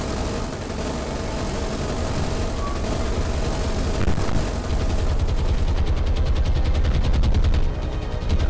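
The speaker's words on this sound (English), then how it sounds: "Thought that 303 machine guns would do anything against an armoured cruiser is fairly funny." Rapid .303 machine-gun fire aimed at an armoured cruiser in the naval video game War on the Sea, a steady dense rattle of gunfire over a low rumbling battle background throughout.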